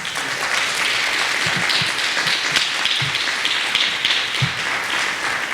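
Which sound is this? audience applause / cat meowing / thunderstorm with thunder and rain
audience applause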